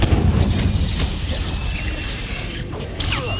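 An incendiary fire spell is cast in Hogwarts Legacy, a burst of whooshing, crackling magic at moderate loudness with mechanical clatter and a second flare late in the clip.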